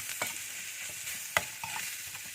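Chicken pieces being stirred and turned in a hot pan, with a steady soft sizzle and a few sharp scraping clicks of a utensil, heard alone without talk.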